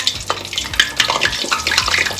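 Boneless chicken wings go into hot frying oil in a home kitchen, with steady close sizzling and bubbling plus light clinks from tongs, with no talking.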